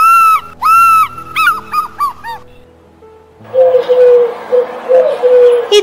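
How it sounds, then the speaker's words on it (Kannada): A laughing dove gives soft, low bubbling coos in the later half, preceded by louder, higher whistled bird calls; no voices. "ಇದು ಕಂದು ಬೆಳವ."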